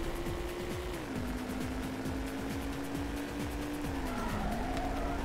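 A car drifting in the PS2 racing game Midnight Club, with a sustained tire squeal sliding in pitch over a droning engine and repeated ticking, loud and close throughout.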